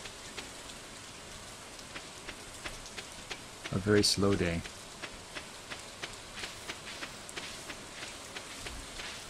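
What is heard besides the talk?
rain falling in the video game Stardew Valley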